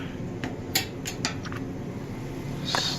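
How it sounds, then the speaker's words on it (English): A wooden spoon stirs Sprite chicken in oyster sauce in a pan, making light scattered clicks and scrapes against the metal over a steady background hiss, with no talking. "I'm using a wooden spoon to actually stir this together"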